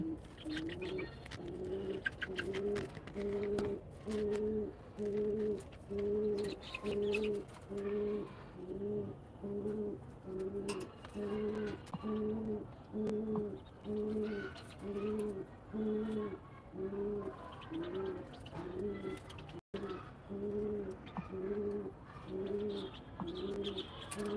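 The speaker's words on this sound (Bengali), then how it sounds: "এই জায়গায় আমার ঘুঘু পাখি আছে ওই যে সাদা ঘুঘু পাখি" Doves, including white doves, and pigeons coo on a farm at night in a steady repeating rhythm, soft low calls rising and falling over and over, with faint chirps in the background.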